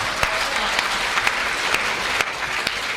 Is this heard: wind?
no